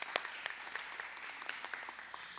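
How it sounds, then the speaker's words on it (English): Light, sparse applause from a school district meeting audience, scattered individual claps rising out of a soft, fairly quiet wash of clapping. "if we could just have a round of applause"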